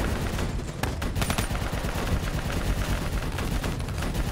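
Gunfire in the video game Call of Duty Black Ops 3, with rapid automatic bursts and heavy shots pounding nonstop, loud and close, in a chaotic firefight.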